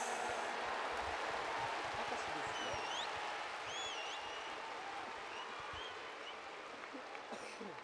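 Stadium crowd of Dragons baseball fans cheering after a game against the Giants, a broad roar with whistles, loud at first and easing slightly, heard from a distance.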